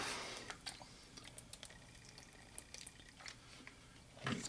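Water poured into a mixture while someone mixes it, with soft intermittent splashes and drips of liquid. The sounds are close and fairly quiet, they come with no talking, and a louder wet slosh arrives near the end.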